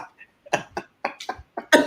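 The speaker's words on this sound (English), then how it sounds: "Start coughing." A person coughs repeatedly in a rapid string of short, harsh bursts, close and loud, ending in a stronger cough.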